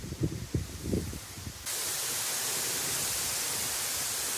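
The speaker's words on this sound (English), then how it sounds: "it's very windy, campers" Broad, steady roar of strong wind buffeting a parked VW T4 camper van at an industrial spot, rising abruptly and holding constant after a few faint rustles.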